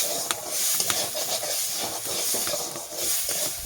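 Moong dal roasts in a little oil in a pan, giving a steady close hiss and sizzle with scattered small ticks and crackles as it is moved about; no speech.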